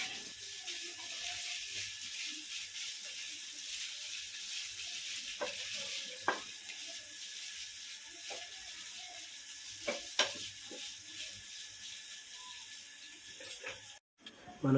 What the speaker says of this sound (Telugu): చూడండి, ఇక్కడ మనకు మ్యాగీ ఫ్రై అవుతున్న సౌండ్ కూడా వినిపిస్తుంది లైట్గా.